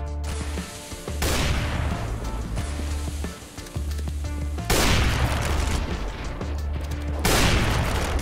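Heavy gunfire in Counter-Strike: Global Offensive during a competitive match, with loud, dense bursts of shots and booming blasts repeating in three long waves with short gaps between, dominating the mix.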